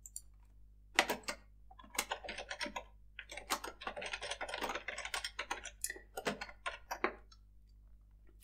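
Someone types text on a computer keyboard, giving quick, irregular bursts of crisp key clicks close by in a quiet room.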